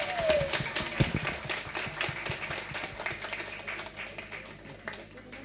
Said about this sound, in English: I think the CII 2024 deserve a much louder round of applause